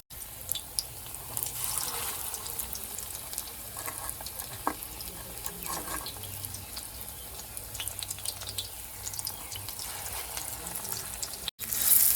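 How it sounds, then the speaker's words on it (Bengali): Lentil and fish-belly fritters (bora) frying in hot oil, a continuous bubbling sizzle with occasional spatters and light clicks, fairly close and steady throughout. "ভাজা করে নিচ্ছি এই সকালবেলা গরম গরম ডালের বড়া"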